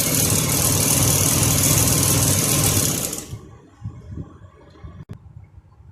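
A sewing machine stitching a shalwar runs in a fast, continuous whir for about three seconds, then stops, leaving faint handling clicks and a sharp tap near the end.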